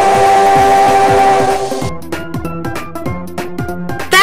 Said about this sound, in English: Spirit Train blows his whistle loudly and proudly, showing off the sound that he can make.